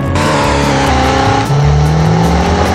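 Car engine in a video game revving hard while climbing a steep hill ramp, loud and continuous with rising and falling pitch as gears shift, no voices.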